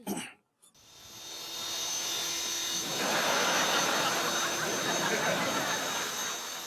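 A toy helicopter in a cartoon spins up after a brief pause, a steady whirring, jet-like roar that swells and holds loud and close for several seconds.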